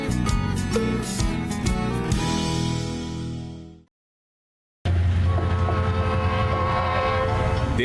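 A train on the Lapa railway in Paraná, Brazil, rumbles loudly with a horn blast, cuts to silence for about a second, then returns as a steady close rolling roar.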